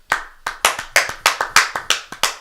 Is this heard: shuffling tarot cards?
no